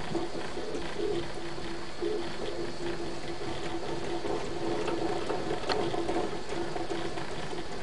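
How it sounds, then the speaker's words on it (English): A Plasmacam CNC plasma cutter with a Gecko servo drive retrofit runs along its gear rack while cutting a star shape. The gears make a faint, continuous mechanical clatter and whir with a quick rhythmic ticking. No one speaks. "If you hear gears clattering, Plasmacam rides on the gear rack."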